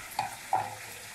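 Garlic sautés in a pan with a soft, low sizzle, broken by two brief scraping stirs close by.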